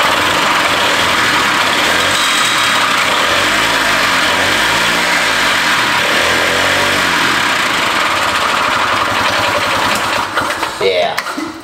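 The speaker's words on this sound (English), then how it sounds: "There's no drive belt on this, so the engine will just run." A barn-find Harley-Davidson golf cart engine runs with no drive belt fitted, a loud, steady buzzing drone that sputters and falters just before the end.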